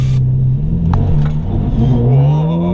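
Ferrari F430 engine accelerating hard from a standstill at a green light, its rising rev tone loud and close from inside the cabin, with a light jingle of keys in the first second.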